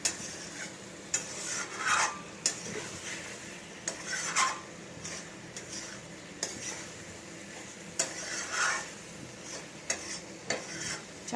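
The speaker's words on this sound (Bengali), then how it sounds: "আর একটু বেশ কষাবো, কষিয়ে তারপর" Food is stirred and sautéed in a kadai, with repeated scraping and clinking of a spatula against the metal pan over a low sizzle, in uneven bursts close by.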